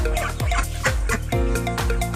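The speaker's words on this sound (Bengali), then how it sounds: "আর এই দেখুন আমার হাঁসগুলো" Pet ducks on a rooftop vegetable and fruit garden give repeated short, rhythmic calls, close by and fairly loud, with no speech.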